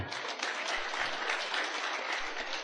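A church congregation applauds during an Ilocano-language sermon, a steady wash of many hands clapping together, fairly distant and even in level, with faint low rumble beneath.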